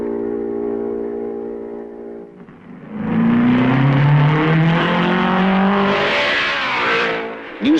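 A 1955 vintage Grand Prix race car at Spa roars past up close, its engine note rising sharply from around three seconds, sweeping through a loud pass and fading, over a steady background drone beforehand, with a brief sharp sound at the end.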